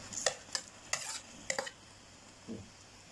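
Shrimp stirred in a thick seafood curry-powder sauce in a pan, several sharp scraping strokes of a utensil over a faint sizzle, quiet and close with gaps between strokes.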